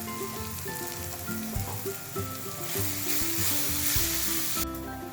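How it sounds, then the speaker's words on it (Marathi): Spice masala sautés in a pan for matar kaju masala, a loud continuous sizzle with a stirring spoon scraping at irregular moments and no voices. "मसाले छान परतून झाले की याच्यामध्ये घालायचा आणि हाही परतून घ्यायचा चांगला."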